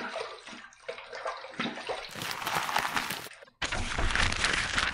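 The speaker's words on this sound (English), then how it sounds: "Let's rinse this off." Water splashing and running while rinsing a face during a shave, a steady close rush with brief pauses and uneven bursts, loud and alone with no talk.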